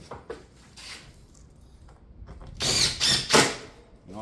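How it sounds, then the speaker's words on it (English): Fasteners are driven into a shake batten ridge cap during roof installation, giving a few short mechanical bursts: faint taps early on, then two or three louder, closer bursts of a tool near the end. "Getting fasteners in the top."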